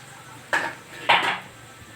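Two quick clattering splashes as chicken drops into a metal pot for sautéing with onion and ginger, close and fairly loud, with quiet kitchen background between them.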